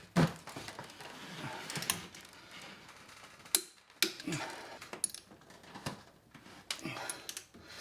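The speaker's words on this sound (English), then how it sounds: "you can really hear the click of the torque wrench as we've increased the torque" A torque wrench clicks as cylinder head bolts are tightened, giving a series of sharp, close mechanical clicks spaced irregularly over quiet shop background.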